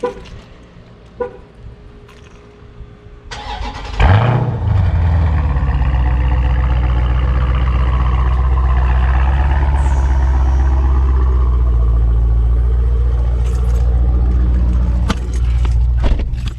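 A Dodge Challenger Scat Pack V8 cranks and fires at about four seconds, then settles into a loud, steady, rumbling idle close by for the rest of the clip, with a few faint clicks and clatters before the start.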